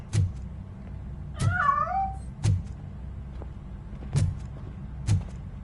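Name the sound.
cat meowing in a video game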